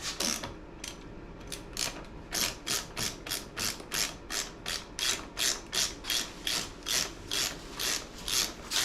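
A 9/16 ratchet wrench works bolts off a transmission brace under a 1980s Dodge W150 truck, a fast, steady series of loud, close clicking strokes repeating evenly throughout with no talk.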